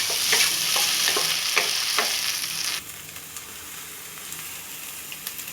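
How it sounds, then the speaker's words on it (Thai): Rice noodles stir-fried with chicken, light soy sauce, a little sugar and seasoning sauce, giving a loud close sizzle with rhythmic spatula scrapes that drops to a quieter simmer with occasional light taps halfway through. "ผัดให้เข้ากันครับ"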